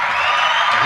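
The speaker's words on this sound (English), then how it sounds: "Okay, everybody clapping." A large crowd at a first-night live show claps and cheers in a steady, dense roar of applause and shouting that holds for under a second, with no pauses.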